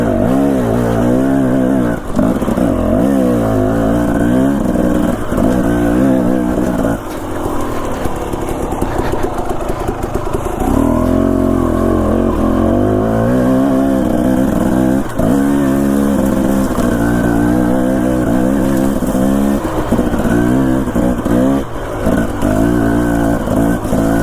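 A dirt bike engine runs steadily on a mountain single-track trail, loud and close throughout, its pitch rising and falling with throttle changes and rougher bursts as the rider works over terrain.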